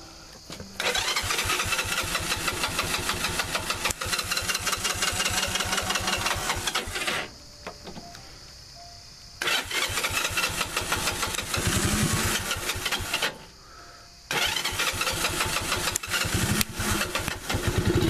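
A 1986 Honda TRX 125 ATV engine is cranked and starts in three bursts, each running loud and rough for several seconds before cutting out into short quiet gaps.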